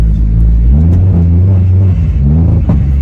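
A car engine drones loudly from inside the cabin, rising and falling as it revs and pulls away, with a deep continuous rumble throughout.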